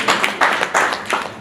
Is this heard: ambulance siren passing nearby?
no